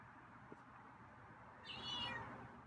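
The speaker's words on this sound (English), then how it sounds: "Oh, it's another meow." A single cat meow rises briefly out of quiet room noise, faint and fairly close.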